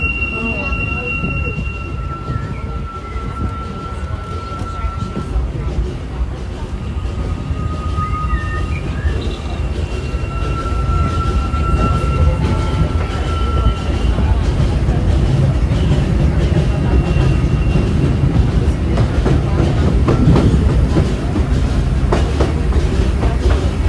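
A loud, rumbling mining-train roller coaster at Disneyland rattles along its track with metallic squeals and whistling tones over a constant roar.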